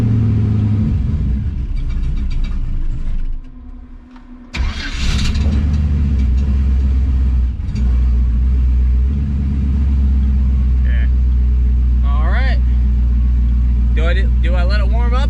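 A car engine cranks and fires, then rumbles at a steady idle close by. It cuts out briefly partway through and then resumes. A person talks over the running engine.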